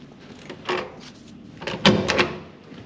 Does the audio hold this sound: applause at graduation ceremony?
no